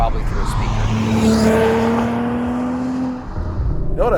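Audi RS5 with the Competition Package in dynamic mode, its engine droning loud and close with a rising tone that sweeps up then eases off, a voice briefly present alongside.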